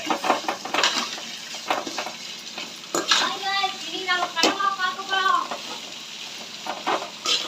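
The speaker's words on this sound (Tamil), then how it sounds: "இந்த பூண்டு எல்லாம் சேர்த்து நல்லா வதக்கணும்" Green chilli and garlic sautéed in a pan for squid thoku, with sizzling, stirring and clinks of utensils against the pan, while people talk and a voice comes through nearby.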